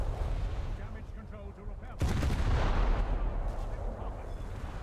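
Naval gunfire striking a ship's magazine in the War Thunder game, with a rumbling artillery boom and then a sudden, louder deep blast that keeps roaring, while a voice talks beneath it.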